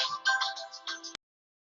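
A mobile phone ringtone plays a bright, pulsing melodic phrase, then cuts off abruptly into silence as it is stopped.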